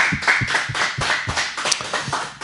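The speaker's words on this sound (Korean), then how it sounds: "우리 하나님께 감사의 박수 올리겠습니다." Church congregation clapping in thanks during a Korean Sunday worship service, a short burst of rhythmic hand claps in steady beats, moderately loud and without talk.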